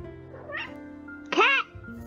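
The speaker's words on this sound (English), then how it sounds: "Cat!" A cat in the game HuniePop gives two short meows, the second louder and rising, over a soft musical background.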